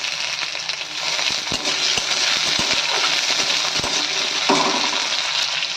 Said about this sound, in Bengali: ওর মধ্যে আলু দিয়ে আলু কিছুটা ভেজে নেবো একটু।